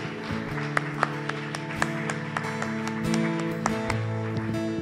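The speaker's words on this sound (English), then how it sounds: "Would you just give them a round of applause this morning?" Church congregation applauding veterans at a morning service, a scattering of separate hand claps over sustained organ or keyboard chords, moderately quiet and fairly close.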